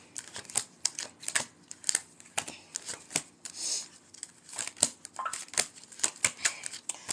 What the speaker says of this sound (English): while I get these cards together